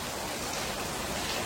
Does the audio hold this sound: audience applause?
no